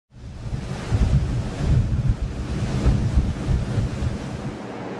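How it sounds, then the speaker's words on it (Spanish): Sea waves wash onto a beach on the Bay of Cádiz, a steady low rumbling surf mixed with buffeting wind noise on the microphone, close and continuous throughout. "el mar acaricia la playa con sus olas y produce una música muy peculiar"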